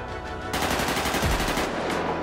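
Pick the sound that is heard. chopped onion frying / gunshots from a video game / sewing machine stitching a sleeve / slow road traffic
gunshots from a video game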